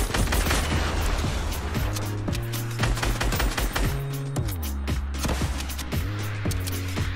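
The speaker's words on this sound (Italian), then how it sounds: "Perché spara all'albero?" Rapid automatic gunfire aimed at a tree in Fortnite, loud and close, with dense bursts of shots and thudding impacts over a low droning background throughout.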